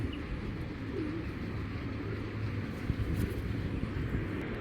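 Adult racer pigeons, large grizzle birds, give soft low coos that sit faintly within a steady, noisy background hum throughout.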